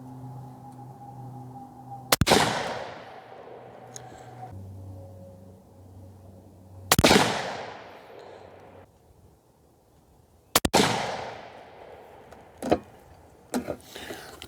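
Three rifle shots from a fast 6.5 cartridge crack out several seconds apart, each a sharp loud bang with a ringing decay, over a low idling hum, followed by a few softer clanks and clicks.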